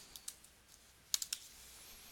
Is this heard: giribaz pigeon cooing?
no